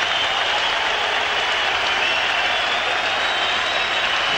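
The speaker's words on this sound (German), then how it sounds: "Der Jubel triumphiert deutlich über die Gegner" A packed boxing arena crowd at a world heavyweight championship bout in a sold-out Munich Olympiahalle roars and cheers continuously, a dense, loud wash of applause and shouting with no clear breaks.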